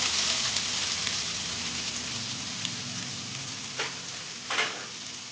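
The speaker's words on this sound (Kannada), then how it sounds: "ಇದು ಗೋಲ್ಡನ್ ಬ್ರೌನ್ ಆಗೋ ತನಕ ಫ್ರೈ ಮಾಡಿ. ಫ್ಲೇಮ್ ಹೈಯಲ್ಲೇ ಇಟ್ಕೊಳ್ಳಿ." Onions fry on high flame in hot oil with cinnamon and cloves for an aloo tomato kurma, giving a steady, moderately quiet crackling sizzle with a couple of brief louder pops near the end and no voices.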